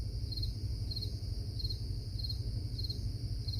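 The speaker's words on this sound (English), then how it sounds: "Crickets. Yeah, the cricket." Crickets chirp in a steady, even rhythm, a continuous pulsing trill over a low background hum, with no voices.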